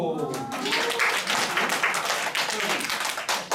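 Audience applause at a Korean lecture on healing coordination, a short burst of scattered clapping from a room of listeners mixed with voices, moderately loud and fading near the end.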